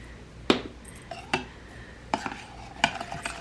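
A spoon clinks and scrapes against a bowl while stirring a mixture of brown sugar, ginger and soy sauce, giving a handful of sharp, close taps with soft scraping between them and no talk.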